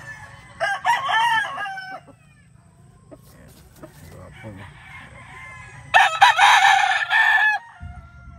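A Roundhead gamefowl rooster crows loud and close twice, one long crow early and another later, with quieter clucking and a low background rumble between them.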